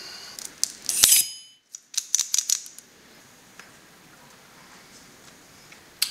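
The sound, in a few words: cutting the cap of a cigar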